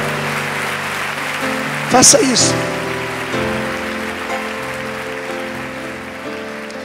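Church congregation applauding in a sustained, dense patter like rain, steady throughout, while someone speaks over it and a brief high burst rises near the start.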